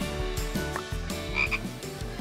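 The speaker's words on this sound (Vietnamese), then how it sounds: "Mình biến thành ếch đây." Cartoon frog croaking during a transformation gag, a series of rhythmic, resonant ribbits repeating close and clear over about two seconds with no speech.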